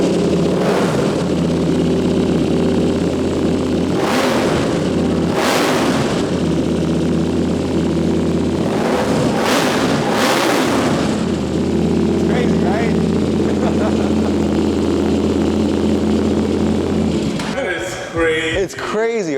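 A KTM RC8C twin-cylinder race motorcycle engine runs steadily with a loud, close, throbbing idle, rising in several sharp revs before settling back, and a final burst near the end.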